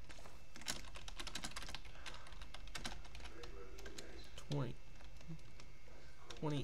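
Quick taps on a computer keyboard as someone types the letter F during a Minecraft game, clicking in a steady run near the mic with talk mixed in.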